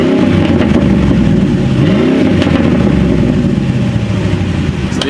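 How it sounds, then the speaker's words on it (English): Pickup truck engine with an open exhaust cutout revving in short, loud bursts, each blip rising and falling in pitch over a steady rumbling idle, close by with no talking. "we'll do a few little baby revs just because it sounds really cool with the exhaust cutout"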